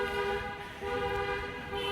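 A car horn sounds steadily on a city street near a subway entrance at midday, a sustained tonal honk running through the whole two seconds over low traffic rumble.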